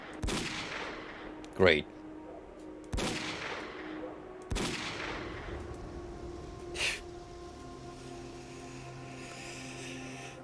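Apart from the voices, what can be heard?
gunfire in video game S.T.A.L.K.E.R.: Call of Pripyat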